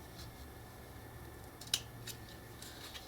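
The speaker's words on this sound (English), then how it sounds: "So I'll cut at an angle up to the corner." Scissors cutting card at an angle for a steampunk model locomotive: a single sharp snip stands out against quiet room tone, with a few fainter clicks around it.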